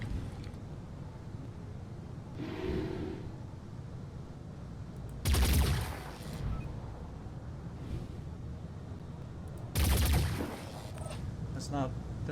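Two heavy gunfire bursts from the strategy game Phoenix Point, each a loud boom with a short rumble, about four seconds apart over steady low background noise.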